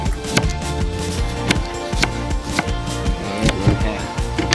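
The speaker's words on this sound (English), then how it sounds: "now we're gonna slice up some french fries" Knife slicing potatoes into large french fries on a cutting board, a series of sharp, close chopping knocks at uneven intervals, with no one talking.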